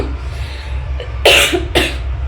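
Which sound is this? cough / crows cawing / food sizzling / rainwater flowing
cough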